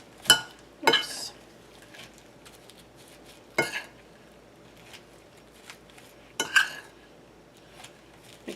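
A metal spoon clinks and taps against a dish while breadcrumb stuffing is packed into artichoke leaves for Italian stuffed artichokes, with a few sharp, close clinks spaced irregularly among soft scraping and quiet pauses.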